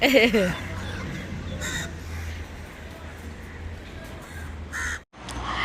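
Crows cawing outdoors in Jaffna, several harsh caws bunched near the start over steady background noise, with a low hum running underneath.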